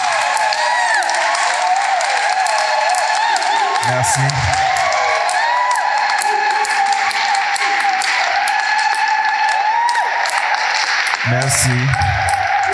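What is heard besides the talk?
audience applause and cheering in church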